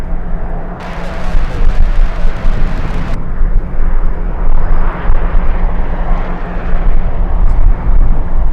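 A Viva Aerobus airliner arrives from Guadalajara on approach to LAX in strong winds. A loud, continuous broadband engine roar is mixed with gusty wind rumble, and there is a brief brighter burst early on.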